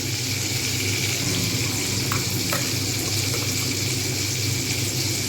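Steady, dense sizzling of pointed gourd (potol) frying in oil in a pan, continuous and close, with a few faint clicks of stirring and no talk.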